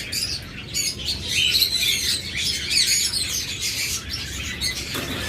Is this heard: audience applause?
no